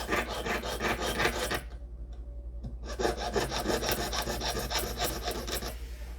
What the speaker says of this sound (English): If you don't like sawing, just practice.